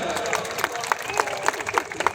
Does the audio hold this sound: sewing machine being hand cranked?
no